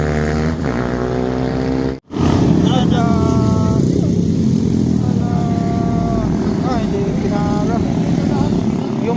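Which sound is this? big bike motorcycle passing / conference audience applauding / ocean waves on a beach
big bike motorcycle passing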